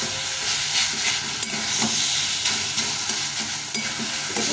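Potato and eggplant frying in a pan, a loud continuous sizzle with scraping stirs and occasional clanks of the spatula against the pan, no voices.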